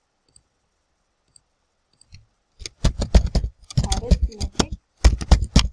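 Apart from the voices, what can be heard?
typing on a computer keyboard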